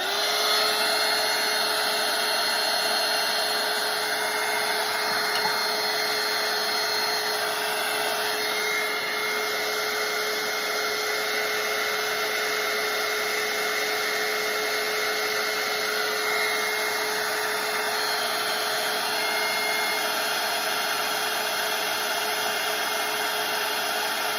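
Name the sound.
hair dryer drying a watercolour painting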